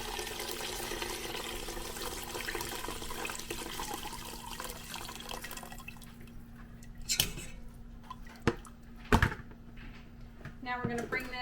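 Fish soup broth for sheepshead pho being poured through a fine mesh strainer, a steady rush of liquid that thins into scattered drips and metallic clinks, with a person talking over it.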